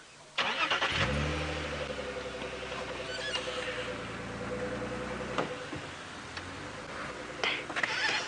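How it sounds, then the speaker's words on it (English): A safari vehicle's engine runs at a medium, steady pitch while it is shifted around and maneuvered, rumbling close by with a few faint clicks and rustles near the end. "I'm going to have to shift the vehicle around a bit more."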